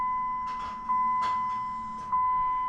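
A truck's newly installed fuel pump primes with a steady electric whine and hum, joined by a few brief mechanical clicks and rustles, close by.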